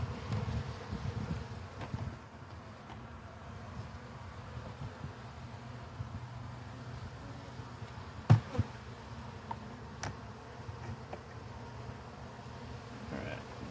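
Honeybees buzzing around an open hive during an inspection, a soft, continuous hum close by, broken by a few faint clicks and knocks.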